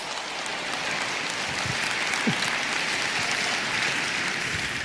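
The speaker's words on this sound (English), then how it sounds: "Let's clap it up for these guys." Audience applause fills the room steadily and evenly for about five seconds, a dense wash of many hands clapping at once with no talking over it.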